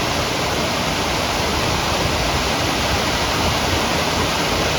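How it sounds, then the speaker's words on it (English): Small waterfalls on a trout creek fed from Sherwood Lake pour in a loud, steady, broadband rush that never lets up, close by and with no voices over it. "You got these waterfalls right here."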